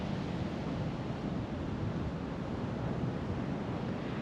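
Ocean waves on a shore roll as a dense, continuous roar of surf with steady wind noise, with no talking and no clear breaks between waves.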